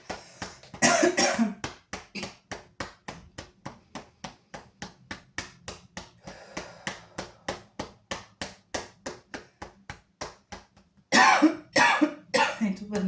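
Repeated coughing bursts during a breathing exercise that involves tapping the chest, with steady rhythmic taps running throughout and louder clusters of coughs near the start and end, close and clear.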